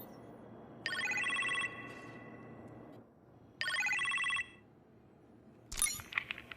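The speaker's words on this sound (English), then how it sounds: "You appear to have a phone call in the kitchen" A telephone rings in a kitchen in the video game Iron Man VR, two distinct bursts of a bright electronic trill separated by a pause, followed by a brief clatter at the end.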